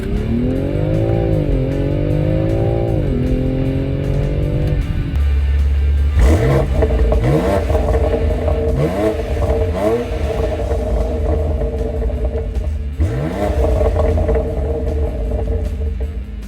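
BMW X3 M SUV with the S58 engine pulling hard through the gears, a loud climbing engine note broken by several quick upshifts, with a steady rumble beneath and no talk.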